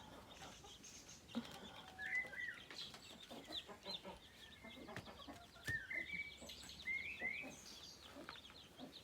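Newly hatched chicks and chickens calling in a coop after rain, scattered high chirps and soft clucks at low volume, irregular and close, with faint background noise.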